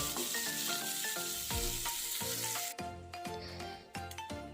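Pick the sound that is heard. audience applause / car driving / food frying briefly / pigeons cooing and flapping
food frying briefly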